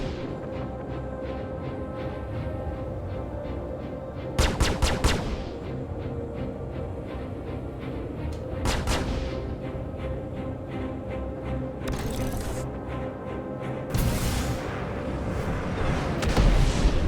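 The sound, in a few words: missile fire and explosions in a space flight video game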